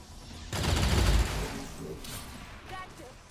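Gunfire bursts out in the turn-based tactics game XCOM 2, a short loud volley of rattling shots followed by a fading tail and a faint later crackle, heard with no speech over it.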